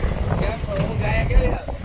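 Strong wind rushing outdoors and buffeting the microphone in a continuous roar, with a voice speaking over it.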